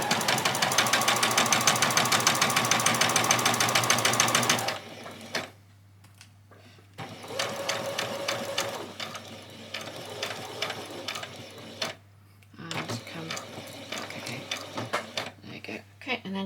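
A sewing machine runs in fast, even bursts while stitching ruffles, its rapid mechanical whirr loud and close, stopping and starting with brief pauses between runs and quiet handling in the gaps.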